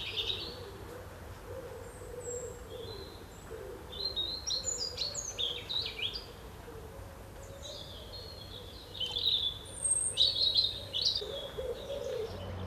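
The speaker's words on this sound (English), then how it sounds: "The nightingale traditionally sings at night" A nightingale sings at night, its scattered bright phrases and chirps rising in short bursts over a steady low background hum, heard at a moderate distance with no voices.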